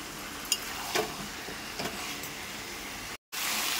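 Chickpeas stir-frying in a pan: a steady, quiet sizzle with a few soft scrapes and stirring knocks, briefly cutting out near the end before resuming.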